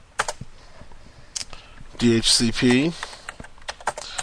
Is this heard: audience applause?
no